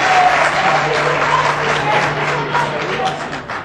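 An audience at a political debate applauds in a dense, continuous patter of clapping, with a faint steady hum and some voices underneath.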